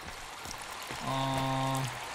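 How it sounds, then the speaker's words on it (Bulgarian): Flowing water in the survival video game Sons of the Forest makes a steady, noisy rush of streaming water throughout, with a humming tone rising over it partway through. "защо започва се чува толкова шумно тази вода?"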